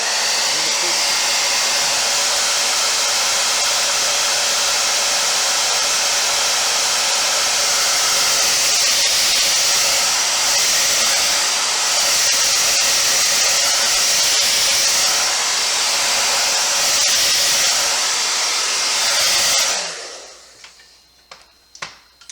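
Hair dryer blowing loudly and steadily at close range over a painted latex skinned-face mask for about twenty seconds, then switching off, leaving a few faint clicks.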